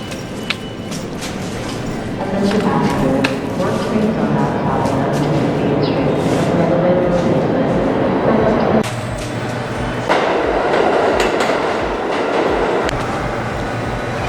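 A New York City subway train rumbles steadily through, loud and close, with screeching, clattering wheels and muffled voices in the background; the noise shifts midway as the car moves.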